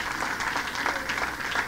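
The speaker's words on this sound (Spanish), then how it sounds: "Dele un aplauso al Señor." A church congregation applauds during a sermon, a dense, even wash of clapping from a crowd, moderately loud throughout the short stretch.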